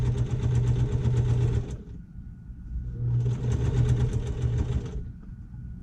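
Domestic sewing machine stitching a narrow seam on fabric, running in two steady bursts of rapid, even mechanical whirring separated by a short pause, close and loud with no talk.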